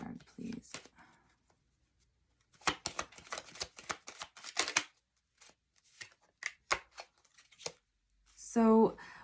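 Tarot cards are shuffled and drawn close by in a daily reading, as scattered papery flicks and snaps with quiet gaps between them, ending in a brief louder voiced sound.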